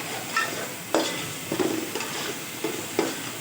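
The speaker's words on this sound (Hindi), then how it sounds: "इसको हम डाल देते हैं और इसको अच्छे से चलाएंगे।" Beef yakhni pulao with crushed green chillies being stirred in a pot, spoon scrapes and clinks coming in several irregular strokes over a faint steady hiss, close and fairly quiet with no talking.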